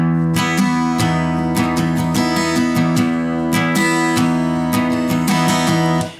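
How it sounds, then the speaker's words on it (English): An acoustic guitar plays a continuous rhythmic strum pattern for a song, with strokes leaning harder on the bass strings then the treble strings, loud and close, with no talking. "you might try strumming a little harder on the bass, and then a little harder on the treble"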